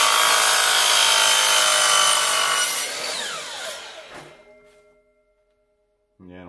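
A wooden board has its end sawn off by hand, with loud continuous rasping strokes for about four seconds. The strokes fade as the piece drops away with a thunk, followed by quiet and a brief sound at the end.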